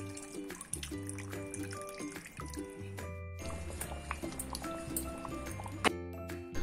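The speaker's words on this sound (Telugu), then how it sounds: "మనం ఇంకో మిగతా సగం మిగిలిన చింతపండు జ్యూస్ని కూడా వేసి బాగా" Tamarind juice poured and stirred into a Godavari pulasa fish curry in a pot, soft liquid drips, squishes and wet stirring sounds, quiet and close, with faint clinks and no talk.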